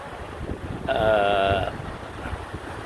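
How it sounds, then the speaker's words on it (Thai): Wind and waves at night on Won Napa beach in Bang Saen, heard as a low steady rumble of wind buffeting the microphone, with a brief brighter tonal swell in the middle. "คืนนี้ ดูคลื่นนะครับ มีทั้งคลื่นมีทั้งลม นะฮะที่ ริมหาด"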